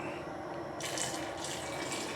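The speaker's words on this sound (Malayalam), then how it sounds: "ശർക്കര ഉരുക്കിയതാണ് ഒഴിച്ചേക്കുന്നത്" After a moment of quiet, melted jaggery begins pouring into rice porridge in a soft, continuous, close splashing stream that runs to the end.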